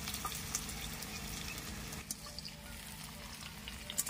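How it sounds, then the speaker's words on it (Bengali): Onions frying in a pan for a Bengali cauliflower roast, a steady soft sizzle with faint stirring clicks running continuously at moderate level, no one speaking. "পেঁয়াজটা এরকম বাদামি করে ভেজে নিয়েছি।"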